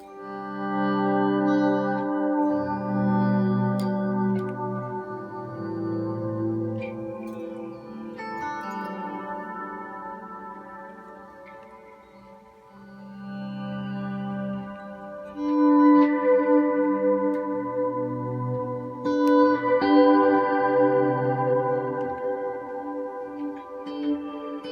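Electric guitar run through a pedalboard reverb with shimmer, playing sustained chords and notes that ring out with a long, wet tail, steady and close with no voices.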